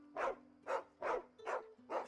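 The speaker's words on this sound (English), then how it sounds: "That's a very angry dog." An angry dog in the Final Fantasy XVI video game barks five times in a steady, evenly spaced rhythm, each bark loud and close, with a low background tone running underneath.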